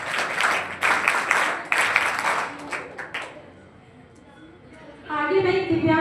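A school crowd claps for a student honoured at a 12th board exam award ceremony. Steady applause runs under someone talking over it, fades out, and a brief sustained tone follows at the end.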